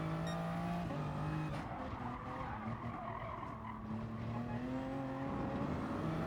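Race car sliding sideways on the Nordschleife in Gran Turismo Sport, with steady tire squeal and skidding over a continuous engine drone, loud and sustained throughout.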